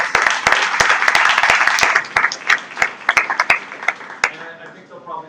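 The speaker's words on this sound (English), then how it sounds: "Please give a round of applause for our panelists." Audience applause for the panelists at an industry summit session: a loud wash of clapping that breaks into sparser individual claps, with talk underneath as it tapers off.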